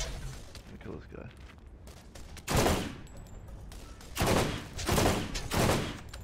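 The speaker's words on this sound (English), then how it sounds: "I'm shooting right at his face." Gunfire in the Borderlands shooter game, several loud bursts of rapid automatic shots and fusillades in close succession, with a voice speaking over the quieter moments between volleys.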